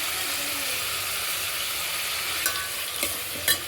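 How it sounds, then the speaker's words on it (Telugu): Tomatoes, onions and green chillies with curry leaves frying in a pan for sambar, a loud constant hissing sizzle close by, with a few scraping clicks of a stirring spoon near the end. "ఇలా టమోటాలు ఎర్రగడ్డలు పచ్చిమిర్చి వేసేసుకున్నాము"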